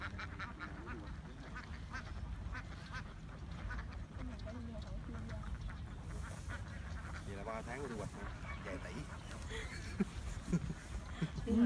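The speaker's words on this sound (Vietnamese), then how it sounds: "Con nuôi vịt cũng ngon lắm á." Ducks quacking by a river at Vàm Láng, Gò Công in Tiền Giang, repeated raspy calls in bursts, some honk-like, heard over a busy outdoor background while people talk.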